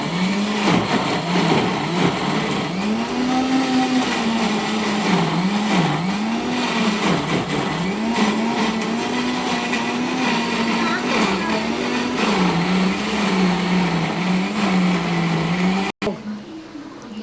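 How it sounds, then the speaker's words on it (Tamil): A mixie blender grinds chicken curry paste for Kerala chicken curry with a loud, steady motor whine whose pitch wavers as the load shifts, then stops abruptly near the end, with speech mixed in. "மிக்ஸி எடுத்துட்டோம்"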